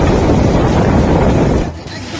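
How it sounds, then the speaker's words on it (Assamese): Cyclone Chitrang's storm winds, reported at about 120 km per hour, roar as a loud, continuous broadband rush that dips slightly near the end. "প্ৰথমে চাই লওক ঘূৰ্ণী বতাহ চিত্ৰাঙৰ কেইটামান ভয়ংকৰ ৰূপ।"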